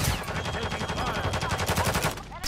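Sustained automatic gunfire in Call of Duty Modern Warfare III, rapid overlapping shots firing loud and close almost without pause, fading at the very end.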